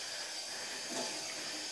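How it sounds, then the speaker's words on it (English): Cold tap water runs into a sink over walnut-husk-dyed yarn being rinsed, a steady broadband hiss and splash at moderate level with no voices. "I'm just going to run this under some cold water for start."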